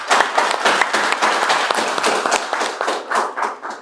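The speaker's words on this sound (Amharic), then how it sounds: "ወደዚህ ስለመጡ ፕሊስ አጨብጭቡላቸው" An audience applauds at a business group's project handover ceremony, with dense, lively clapping and sharp individual hand claps that keep going without a break.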